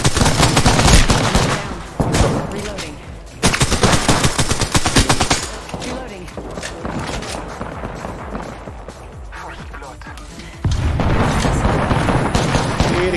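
Gunfire in the battle royale shooter Apex Legends, loud rapid automatic bursts close by with heavy thumps, brief pauses between volleys and a fresh burst near the end.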